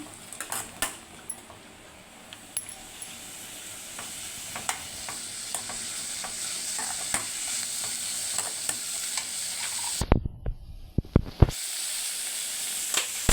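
Small onions sautéing with cumin and fennel in a pan for mushroom gravy, a steady close sizzle broken by frequent clinks and scrapes of a stirring spoon, with a brief louder clatter of the pan near the end.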